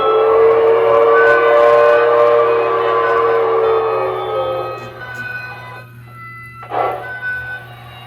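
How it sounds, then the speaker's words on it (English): On a model railroad layout, a loud, sustained train horn blares with rich tones over a low rumble, fades, then a second shorter horn blast sounds. "I hear trains being fired up."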